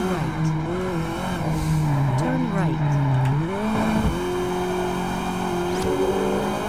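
Ford Transit Super Sport van racing in Test Drive Unlimited, its engine droning loud and steady with pitch rising and dipping through gear changes and corners, tire squeal at times, and someone talking over it.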